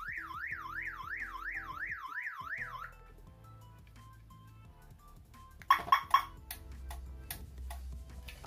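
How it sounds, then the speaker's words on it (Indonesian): A universal car alarm on a 2008 Toyota Avanza wails in a rapid rising-and-falling siren for about three seconds as a locked door is opened, then stops; a few sharp clicks and beeps follow over low background noise. "apabila alarm berada pada posisi mengunci dan seseorang berusaha untuk membuka pintu, maka alarm akan berbunyi"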